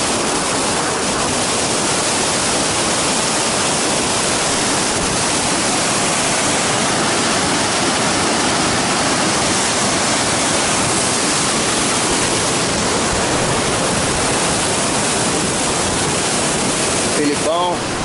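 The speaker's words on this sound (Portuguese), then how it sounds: "Dá uma olhada na potência da água aqui na piscina e a garganta." Powerful water rushes through a river pool and gorge in a dry-season forest park, a loud, steady roar of broadband noise that holds unbroken for the whole stretch.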